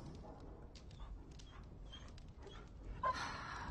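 A dog in the Dragon Age Origins video game whimpering and panting softly amid faint background ambience, with a few brief higher whines and a slightly louder stir near the end.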